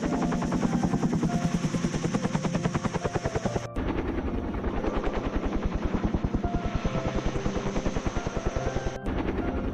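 A helicopter airlifting a rescued panda above rainforest trees, its rotor chop a loud, fast, steady pulse with engine whine running continuously throughout, close and unbroken by any voices.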